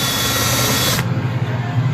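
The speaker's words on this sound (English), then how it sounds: "I'm gonna drill one right in the middle for like water drain" A power drill runs steadily and loudly as it bores through a go-kart seat, a continuous buzzing whir that shifts in tone partway through.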